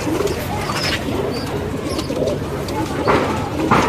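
Pigeons coo in low, soft, repeated murmurs close by, layered over a steady background hum, with a few faint chirps mixed in.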